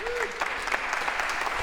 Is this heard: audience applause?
yes